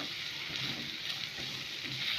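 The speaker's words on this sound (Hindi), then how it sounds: "आतां तितून टोमाट घालता तेंय बरें करून फ्राय करपाचें टोमाट।" Tomatoes frying in a pan for a Goan-style fish ambotik curry, a steady soft sizzle that runs unbroken for a couple of seconds, close by and moderately quiet, with no voices over it.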